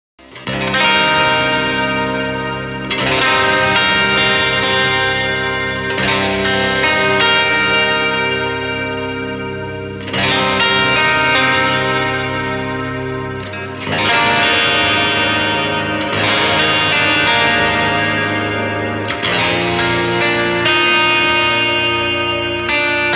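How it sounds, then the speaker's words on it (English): A Jackson electric guitar on its bridge split outer-coil pickup plays chords with a bright, thin single-coil tone, each strum ringing out with chorus-like shimmer and echo, no voices. "the second position on the pickup switcher, which is going to be the bridge split outer coil"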